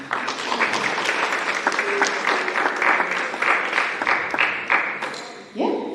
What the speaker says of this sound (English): So round of applause for yourselves again.